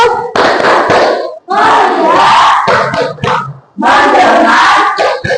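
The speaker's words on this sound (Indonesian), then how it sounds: "kita tepuk fokus sama-sama." Group of students in an Indonesian primary classroom chanting together in loud unison bursts with rhythmic hand claps, three phrases separated by short pauses.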